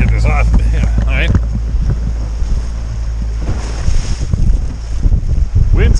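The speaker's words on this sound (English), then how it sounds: "Wind's coming from the southeast." Wind blows steadily outdoors near the water, roaring into the microphone as a constant rush with gusty swells, and a voice speaks briefly at the start.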